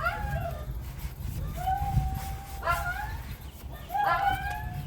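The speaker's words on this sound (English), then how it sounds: "sorry about the dogs in the background" Several dogs whimper, yip and let out short howling cries in the background, in repeated bursts over a low steady hum from a car wash beside an AMG SUV.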